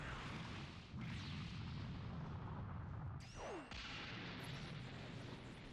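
A charged energy blast from Goku's spirit bomb attack in Dragon Ball Sparking Zero: a sustained, dense booming rumble runs throughout, with a couple of rising whooshes and a sharp swelling burst near the middle, loud and continuous.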